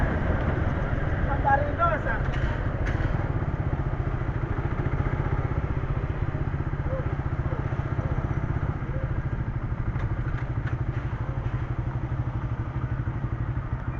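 A motorcycle rumbles steadily through the driveway of an office building, a close, continuous engine drone with occasional clatter and thumps from the ride, throughout all fourteen seconds.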